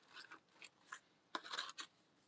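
Scissors cutting through paper or card at a craft table, heard as a few short, crisp snips and rasping slices, close and quiet, in irregular bursts with a denser cluster in the second half.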